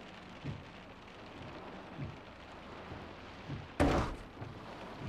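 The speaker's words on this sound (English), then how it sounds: "A bit of rain for the skit, never seen that before." Steady rain falls in the Forza Horizon racing game set in Australia, a soft continuous hiss with a few dull thumps and one sharp louder burst near the end, no voices.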